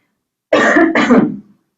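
A single close, loud throat clearing from someone speaking in a small online workshop, a short two-part rasping burst lasting about a second in otherwise silent surroundings.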